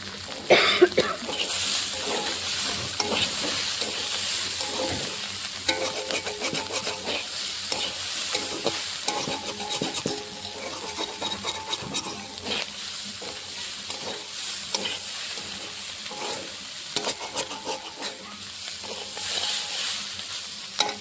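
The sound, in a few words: small fish frying in mustard oil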